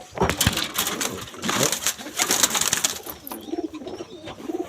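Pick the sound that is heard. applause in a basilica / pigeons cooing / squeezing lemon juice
pigeons cooing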